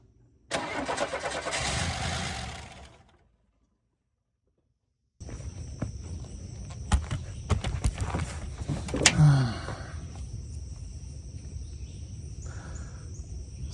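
A Buick Grand National engine being rebuilt cranks briefly, pauses, then starts and runs at a steady close idle with mechanical clatter, all without talk.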